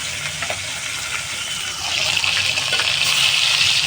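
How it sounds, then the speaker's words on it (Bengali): Pieces of small carp fish sizzle in hot mustard oil in a kitchen pan, a steady hissing fry that grows noticeably louder and brighter partway through, with no voices over it. "চলো মাছটা ভাজা হয়ে যাক লাল লাল করে"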